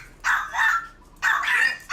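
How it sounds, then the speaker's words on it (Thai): A frightened dog gives two close, loud barks about a second apart, each a short sharp burst with no other sound around it. "ก็ยังเห่าอยู่นะคะ"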